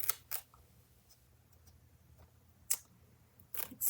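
Scissors cutting into small thick-edged paper pieces for a nature-themed scrapbook page, a handful of quick crisp snips spaced irregularly through near-silence, close and fairly quiet.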